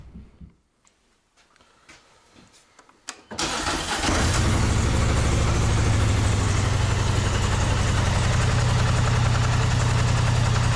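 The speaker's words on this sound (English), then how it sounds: "So I'm going to go ahead and warm the machine up and start plowing." A Polaris Sportsman ATV with a 66-inch Glacier Pro HD plow, readied for clearing a snowy driveway: a few quiet clicks and rustles, then the engine cranks and catches into a loud, steady close idle that holds to the end.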